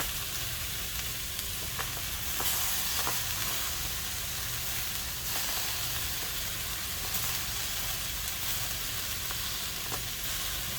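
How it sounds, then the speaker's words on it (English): Steady, dense sizzling of potatoes frying in a hot pan, with occasional sharper crackles and pops over a constant hiss. "Sizzle sounds amazing."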